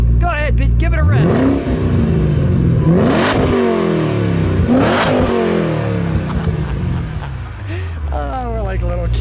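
A 2007 Ford Shelby GT500 Super Snake V8 revs hard in two sharp, loud bursts that fall back to a rumbling idle, with people talking around the car.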